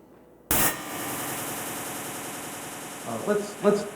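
Synthesizer white noise bursting in abruptly after a short silence, a loud, steady hiss that holds on, with a few soft synth tones surfacing near the end.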